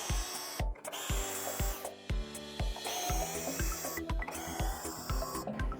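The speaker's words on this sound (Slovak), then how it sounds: "Práve ťažko dostupné miesta sú ideálne na použitie delta brúsky, ktorá umožní brúsenie aj v rohoch." Parkside Performance 12V multi tool fitted with a delta sander, buzzing steadily as it sands, with short repeated bursts and brief pauses in an even rhythm, close and loud, no talk.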